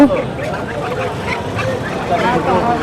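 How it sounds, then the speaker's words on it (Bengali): Chinese Muscovy ducks give short, raspy quacks at a village poultry market, partly masked by the busy babble of nearby voices and bargaining. "চীনা হাঁস"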